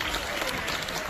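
Audience clapping to welcome a performer at a classical music lecture, a brief dense burst of applause with crowd noise mixed in.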